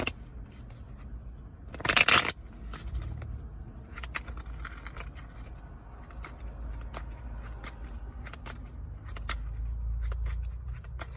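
A deck of cards is shuffled up close, one sharp riffling burst followed by quieter scattered flicks and handling noises.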